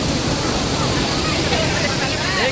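A large volume of water rushes continuously at a waterfall, a steady, loud broadband roar filling the whole stretch without pause.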